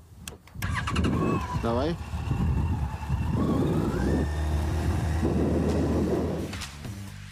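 Yamaha FJR 1300 motorcycle engine cranking with a short starter whir and catching into a steady idle that continues under close conversation, with a brief rev near the end.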